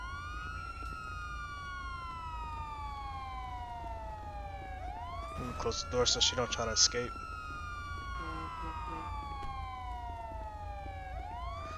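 A police car siren in the video game GTA V wails in repeated rising and falling sweeps at a steady medium level. Someone talks over it in the middle.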